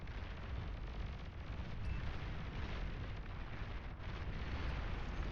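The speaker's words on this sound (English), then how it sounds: "Oh, got some more explosions down here." Dense rolling explosions from the real-time strategy game Beyond All Reason form a continuous, rumbling barrage of overlapping blasts, fairly faint overall and with no voices.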